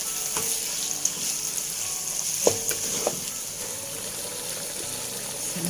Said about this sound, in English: So I'm going to add in the Kue Teow and we fry until it's well mixed